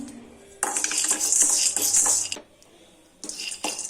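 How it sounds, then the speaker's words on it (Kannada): Half a cup of roasted gram pours into a pan for peanut chikki, a dry, clattering patter lasting about two seconds, followed by a shorter second pour; no speech. "ಹಾಫ್ ಕಪ್ ಹುರ್ಗಡ್ಲೆನ ಹಾಕ್ತಿದ್ದೀನಿ"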